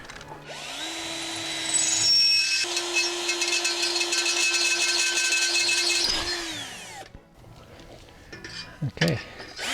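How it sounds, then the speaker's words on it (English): A power drill bores mounting holes for an outdoor MrCool 24K BTU mini split unit set on a bark-mulch base: one loud, steady whining run of about six seconds that winds down and stops, followed by faint outdoor rustle. "So now drill those holes and put it in place."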